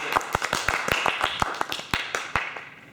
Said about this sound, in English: So can I hear one loud round of applause for Jeremy?